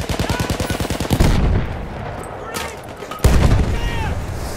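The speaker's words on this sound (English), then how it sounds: "Shotgun." Rapid automatic gunfire in a shooter game, a dense burst of repeated shots that breaks off into heavy booming blasts, loud and close, with voices talking over parts of it.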